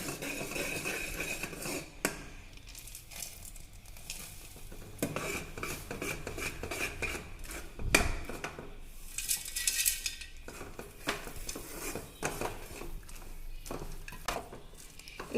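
Peanut burfi mixture gets stirred in a pan, with repeated scraping and clattering of a spoon against metal, irregular knocks and a sharp clank near the middle.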